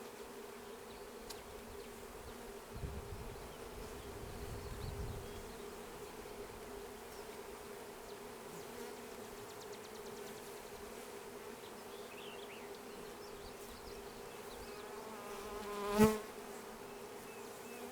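Honey bees buzz steadily at a hive as a new colony is installed, a low continuous drone close by, with one brief sharp rise where a bee flies near.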